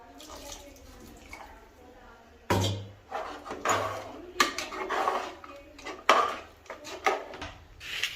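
Mutton kuzhambu curry is stirred in a metal pot, with scraping and several sharp clanks of the spoon against the pot. Voices murmur in the background.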